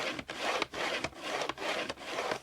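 A pencil drawing a marking line across paper while making an envelope, heard as steady close scratching strokes repeated about five times in an even rhythm, with brief pauses between them and no talking.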